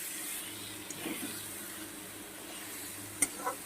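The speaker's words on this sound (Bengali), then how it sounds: "সজনে ডাটা আলুটা দিয়েও আমি আরও দু মিনিট একটু কষিয়ে নেব" Drumstick pieces and potato sauté with small tangra fish in a pan, giving a faint, steady sizzle under occasional stirring scrapes and a sharp utensil clink near the end.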